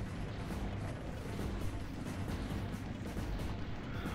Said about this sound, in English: I just noticed he started firing a whole bunch of, like, missiles there.